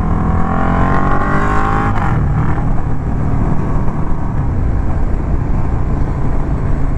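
KTM motorcycle engine running steadily at speed, a loud close drone with a rising pitch sweep early on, then constant roaring wind-buffeted noise for seven seconds with no voice.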